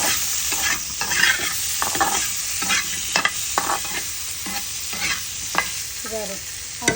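Koral (bhetki) fish frying in a pan, a continuous close sizzle broken by repeated scraping and tapping of a spatula as it is turned and stirred, with no voices.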